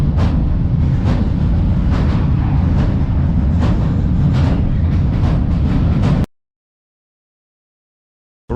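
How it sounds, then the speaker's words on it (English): A freight train rumbles along steadily in Europe with rhythmic clatter from the wheels for several seconds, loud and close, then cuts abruptly to silence. "Alright, so the train is driving back again."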